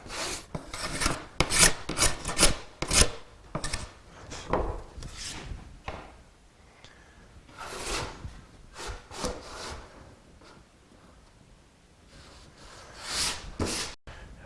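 A wooden sled runner edge is tapered by hand, with bursts of rough rasping strokes in quick rhythmic runs, close up, with quieter pauses between sets.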